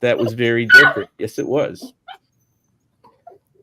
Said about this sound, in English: You can hear the dog is crying.